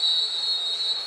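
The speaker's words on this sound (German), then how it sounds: "Nicht beachtet, deswegen der Pfiff gegen Amir" A steady, shrill referee whistle from a FIFA football video game match between Borussia Mönchengladbach and Werder Bremen holds for about a second at an even loudness.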